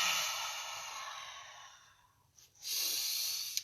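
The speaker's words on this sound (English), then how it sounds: "breathing in on the way up, filling the lungs, and then squeezing out the air" Slow, deep breaths during a stretching exercise: a long, loud exhale fades out, a short quiet pause and a sharp intake follow, then another strong breath starts. The breathing is close and stands alone with no talking.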